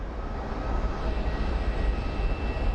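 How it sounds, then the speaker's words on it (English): An MD-11 airliner on approach to Phoenix Sky Harbor airport, a steady broad engine roar with a low rumbling base, distant but continuous and unbroken, no voices. "We have an MD-11 that is approaching."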